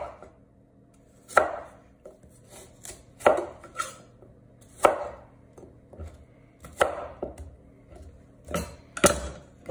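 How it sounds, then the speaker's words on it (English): A knife chops apples for a pie on a cutting board, with sharp irregular thuds spaced a second or two apart and small clicks between them, close and clear with no speech. "we gotta chop our apples here"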